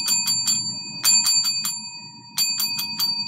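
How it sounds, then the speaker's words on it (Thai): A bright bicycle-style bell rings in quick trills, three separate bursts of several rapid dings, close and clear over a low background rumble. "กระดิ่ง"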